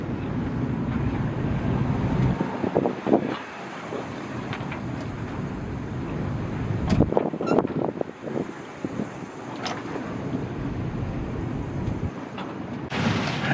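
Wind and rough sea off Coffs Harbour, heard from a small yacht on a solo sail: steady broadband rush with surging wave wash and gusts buffeting the microphone throughout, loud and close.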